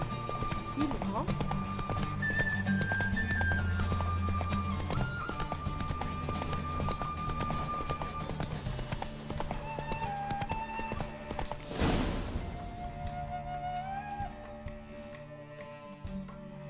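Horse hooves clip-clopping at a gallop during a race in The Witcher video game, a quick steady rhythm with a neigh, with game music and character voices talking over it.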